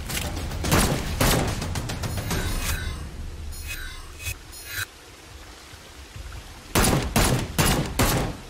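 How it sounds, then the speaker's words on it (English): Sharp bursts of gunfire from the VR shooter Seeking Dawn as aliens are shot, coming in clusters at the start and again near the end with quieter gaps between. "Of course, I'm shooting aliens."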